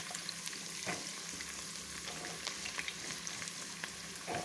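Onions sizzle and fry steadily in hot cooking oil in a pan while a lunch menu is cooked, a constant close crackling hiss with occasional louder pops and stirring clatter, no talking.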